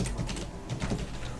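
Quick, close keystrokes come in a short burst of taps on a computer keyboard while a command is typed into AutoCAD and Enter is pressed, with a steady low hum underneath and no talking.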